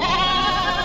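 A sheep bleats once, close and clear, in a single short cry at a Bakri Eid livestock market in Shirur, Talegaon Dhamdhere.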